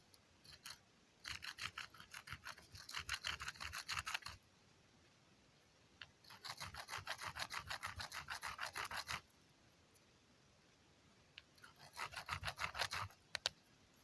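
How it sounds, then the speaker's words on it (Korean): Two stones rubbed together to grind an even, knife-like edge, heard as three bursts of rapid, rasping back-and-forth scraping with quiet pauses between, close and faint, with no voices. "돌과 돌 비벼서 단면을 좀 더 일정하게 우리가 나이프처럼 일정하게"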